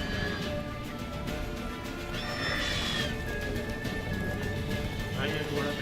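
Roach, Geralt's horse in the video game Witcher 3, neighs and whinnies while galloping, a clear whinny over continuous hoof and ambient game sound with a voice talking over it.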